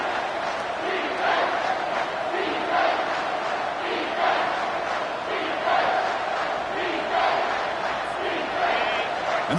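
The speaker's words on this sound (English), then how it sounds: "the crowd coming to life here" A college football stadium crowd roars steadily, a dense sustained cheer with surging swells every couple of seconds as fans rally behind the defense in the red zone, loud and continuous throughout.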